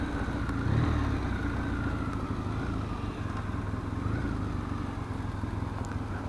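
A carburetted motorcycle engine runs steadily, a continuous close rumble at an even idle-like pace with slight rises in revs, no talk.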